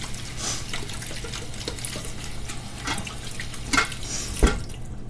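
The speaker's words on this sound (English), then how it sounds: "Let me wash my hands." Tap water runs steadily into a sink while hands are washed beneath it, a close, continuous splashing with a few brief louder clatters near the end.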